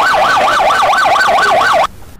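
A new ambulance's siren wails loudly and steadily in a fast, regular up-and-down sweep, close by and alone, before cutting off abruptly near the end.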